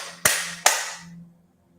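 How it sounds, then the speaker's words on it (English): Two sharp, close hand claps about half a second apart, each crisp with a short ringing decay, fading into quiet room tone with a faint low hum underneath. "I want you to try it again, but this time I want you to clap your hands together."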